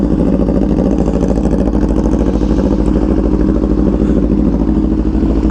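A superbike motorcycle engine runs loud and close at a steady, throbbing idle with a rough mechanical clatter throughout.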